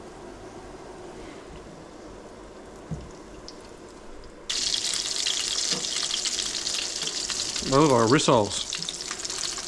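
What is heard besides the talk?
abalone frying in olive oil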